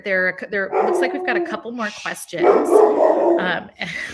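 A dog barks and yips repeatedly, loud and close, overlapping a person talking during an online workshop session.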